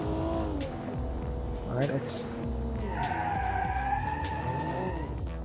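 A carbureted modern SUV built for the BeamNG driving game, with an engine humming and revving while its tires squeal and skid. Someone talks over it.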